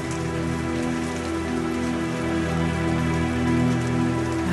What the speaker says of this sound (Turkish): sağanak yağmur altında uğurladı onları